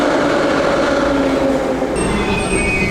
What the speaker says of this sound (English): they should be showing up on the next train, hopefully